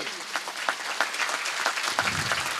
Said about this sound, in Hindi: तालियां बजाइए प्रभु के लिए